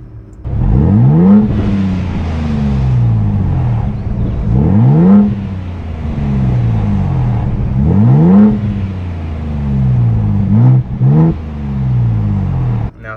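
Ford Bronco Raptor engine in sport mode revving loudly and repeatedly, each rise in pitch followed by a drop and a hiss of blow-off, several rev cycles close up.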